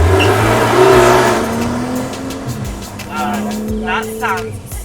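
Porsche 911 GT3 RS (991) engine revving and pulling through gears in the desert, loud close engine note rising and shifting pitch, with people talking over it.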